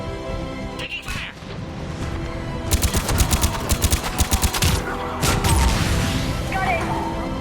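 Gunfire in the video game Mass Effect 3 crackles in rapid bursts of shots mixed with impacts and game noise, loud and busy throughout.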